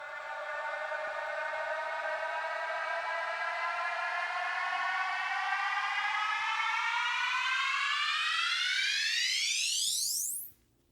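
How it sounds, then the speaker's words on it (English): Synthesized EDM riser build-up, a dense stack of tones sweeping steadily upward in pitch for about ten seconds, loud and continuous, accelerating sharply at the top before cutting off abruptly; no voices. "the size is what gives us that pitching up effect throughout this riser"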